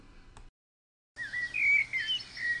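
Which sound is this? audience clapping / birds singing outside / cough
birds singing outside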